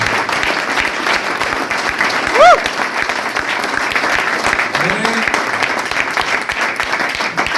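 An indoor audience at a Vestige direct-selling company event claps steadily and loudly throughout, a dense even wash of applause with a voice briefly speaking over it.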